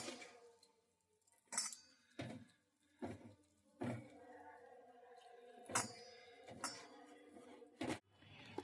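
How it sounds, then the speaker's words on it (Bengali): A utensil clinks and knocks against a bowl while vegetable egg chop batter of spices and water is mixed by hand. The close, quiet strikes come at irregular intervals of roughly one second, with soft stirring between them. "এরপর সব উপকরণগুলো আমি মিশিয়ে নিচ্ছি অল্প অল্প জল দিয়ে একটা ব্যাটার তৈরি করে নিচ্ছি"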